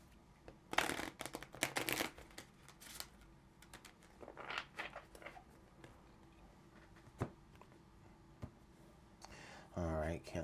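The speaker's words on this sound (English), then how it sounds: "Let's get one more shuffle." Tarot cards shuffled by hand for a reading, heard close up as a few loud riffling bursts early on, then softer scattered card slides and taps, ending in one more quick burst.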